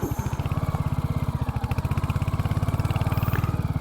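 A Royal Enfield Hunter 350 motorcycle ridden off road on loose, dusty ground, its single-cylinder engine thumping in a steady, even rhythm close by throughout.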